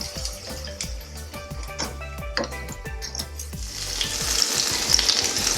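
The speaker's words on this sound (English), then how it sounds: "You fry your plantains the way you like it." Salted plantain slices fry in hot oil for a dark finish, giving a steady close sizzle and crackle with a few clinks and stirring sounds, growing brighter and louder toward the end, with no talk.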